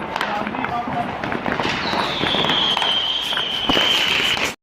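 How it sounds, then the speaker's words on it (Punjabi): Firecrackers crackle and pop in sharp bursts amid a rising whistle, with people talking over the noise. "ਦੀਵਾਲੀ ਦੇ ਵਿੱਚ ਪਟਾਕਿਆਂ ਦਾ ਮਾਹੌਲ ਬਣਿਆ ਹੈ"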